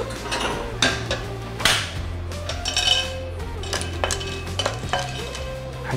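A small handful of peanuts is dry-roasted in a pan and stirred, giving close, irregular scrapes, clinks and knocks of utensil on pan over a faint background hum.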